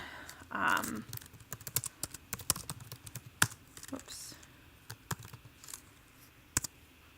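Order details typed on a computer keyboard, a series of sharp, irregular key clicks close by, with someone speaking briefly at the start.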